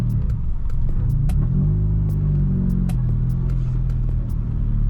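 Road traffic thick with buses near San Fernando: a continuous low rumble of engines passing close by, with shifting mid-range drones and scattered sharp clicks, no talk.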